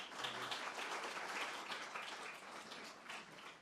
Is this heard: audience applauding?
yes